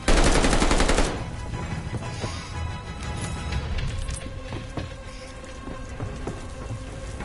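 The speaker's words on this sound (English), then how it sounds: "What's that machine gun?" Sustained rapid machine gun fire in the Call of Duty Vanguard shooter game, a dense, loud burst at the start that continues as steady crackling volleys with scattered impacts.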